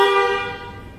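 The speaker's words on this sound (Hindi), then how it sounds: "कार का हॉर्न भी काफी अच्छा है।" Mahindra Thar LX 4x4 manual diesel car horn sounding one steady, loud, close blast that fades slightly over about a second, with no talking.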